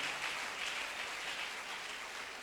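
A church congregation applauding at a Sunday morning service, a dense, steady wash of clapping that holds evenly throughout without voices on top.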